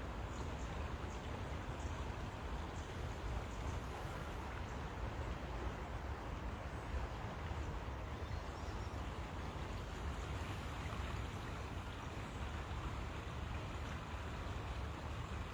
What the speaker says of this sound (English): It's quite calming just listening to the river.